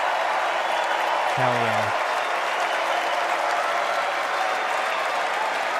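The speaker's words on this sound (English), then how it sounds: "the whole crowd is just screaming around it" At the Democratic National Convention, a packed crowd cheers and applauds in a loud, continuous roar that fills the hall. A single voice shouts briefly over the din.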